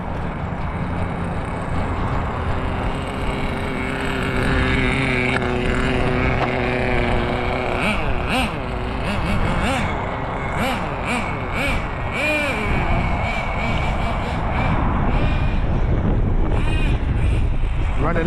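An HPI RS4 nitro RC car engine, running low on fuel, buzzes and sputters unevenly over gusty wind noise while people talk nearby.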